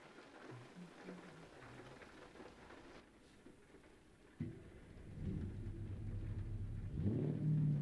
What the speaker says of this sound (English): Oh no, it's still got the engine sound.